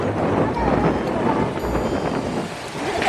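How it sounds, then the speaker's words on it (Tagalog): Loud, rumbling wind buffets the microphone continuously, a dense roaring blast of low noise throughout. "ang lakas ng hangin no"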